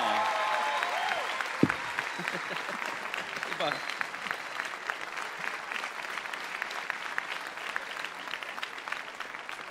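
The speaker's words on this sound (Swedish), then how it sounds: "En stor applåd." Applause from an audience at a live role-playing club show, a dense, steady patter of many hands clapping throughout, fairly close and even, with no talking over it.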